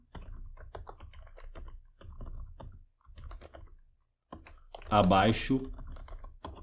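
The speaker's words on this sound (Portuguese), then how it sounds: "E aí embaixo eu vou digitar digite o código" Keys clacking on a computer keyboard as code is entered, short irregular bursts of taps close by, pausing in gaps, with a voice talking over them through the clip.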